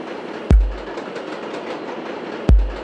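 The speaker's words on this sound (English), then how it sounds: "That's the train sample" Train sample used in music production: a low rumbling rail ride with two sharp clanks about two seconds apart, each decaying quickly over the steady roll.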